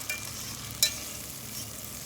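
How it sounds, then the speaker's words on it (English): Bacon frying in a pot, the first step of smoked braised beef short ribs, gives a steady soft sizzle with one brief sharp pop partway through and no talk. "when the bacon's all done cooking up"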